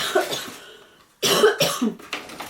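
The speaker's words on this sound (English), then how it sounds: "I just have a horrible cough this allergy season" A horrible allergy-season cough, heard as a close, harsh fit of several rapid coughs that bursts out after a quieter stretch.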